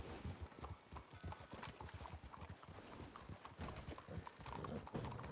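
Horse hooves in the western video game RedM clip-clop in a rapid, steady rhythm throughout, fairly quiet and continuous with no talking.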